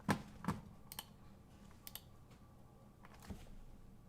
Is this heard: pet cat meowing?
no